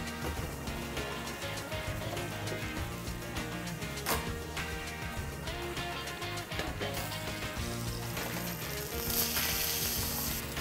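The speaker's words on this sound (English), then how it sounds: "I just wanna get a nice sear on the outside." A strip steak sears in a hot cast iron pan, giving a steady, loud sizzle that runs the whole time under a layer of background music, with no talk.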